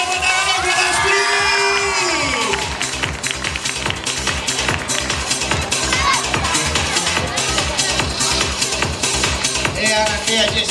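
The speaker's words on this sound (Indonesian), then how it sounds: "tepuk tangan buat Astrid." A lively crowd at a snake show with a king cobra cheers, whoops and shouts continuously, dense and loud throughout, with a music-like tonal sweep early on and voices mixed into the roar.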